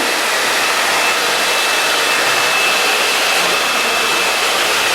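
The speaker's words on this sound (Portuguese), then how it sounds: "Cuidado para que o bico, o calor do secador não seja direcionado, vapor quente, direcionado para o couro cabeludo" A hair dryer blows continuously while hair is brushed in a salon-style blow-dry, producing a loud, steady rushing whoosh with a faint high whine and no breaks.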